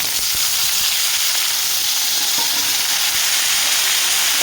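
Cut potatoes hitting hot oil with cumin in a frying pan for a Bengali fish curry, giving a loud, steady, close sizzle that hisses on without a break.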